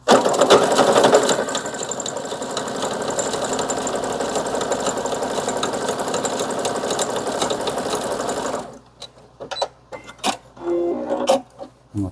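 A sewing machine with a single presser foot stitches a card wallet, running loud and steady with a fast mechanical chatter for about nine seconds, then stopping, followed by scattered handling clatter.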